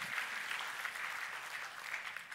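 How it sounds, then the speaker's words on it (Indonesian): A church congregation applauds during a sermon, a dense, even patter of many hands clapping at moderate volume. "Tepuk tangannya yang paling meriah buat Tuhan."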